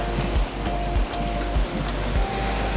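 Ocean surf rolls in at a beach spit on Raa Atoll in the Maldives as a steady broadband wash, with soft low thumps of breaking waves roughly every half second.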